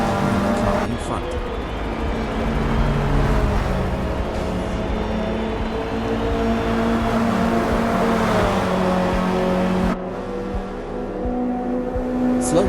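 Volkswagen Golf GTI race car in a Forza Motorsport spec-series race, its engine droning and climbing through revs under acceleration with other cars nearby, plus a brief gearshift dip; someone narrates throughout.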